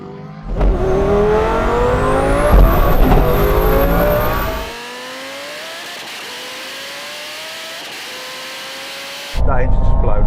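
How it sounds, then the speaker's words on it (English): A drag race car engine screams loudly as it accelerates, struggling for traction and rising in pitch, then drops to a lower steady drone before roaring back up; the engine blows. "He's just blown his engine."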